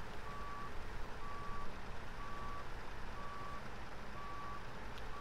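Truck reversing alarm in SnowRunner, a steady run of evenly spaced beeps, six in all, over a constant low engine rumble and off-road drivetrain noise.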